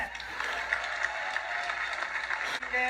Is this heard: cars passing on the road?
no